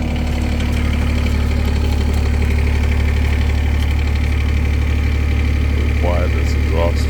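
A 2024 New Holland E17c mini excavator idles with a steady, low, droning engine hum and soft exhaust note, close and unchanging, with a voice briefly speaking over it near the end.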